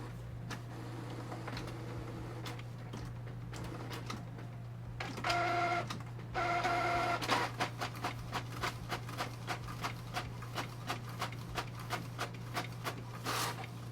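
An inkjet printer prints a mandala tattoo stencil design, giving a quiet run of rapid mechanical clicks and carriage ticks over a steady low hum, with a couple of brief louder whirring bursts in the middle.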